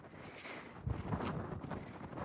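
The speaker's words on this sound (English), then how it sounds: "It's definitely windy." Gusty autumn wind on Mount Jefferson, New Hampshire, buffets the microphone with a steady broadband roar and low rumbling bursts, close and fairly loud, with no voices.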